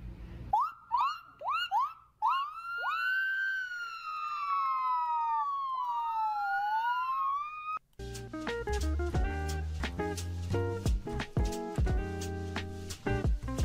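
Voices imitate two ambulance sirens passing by, with rising and falling wails sung close and clear for several seconds before loud music takes over.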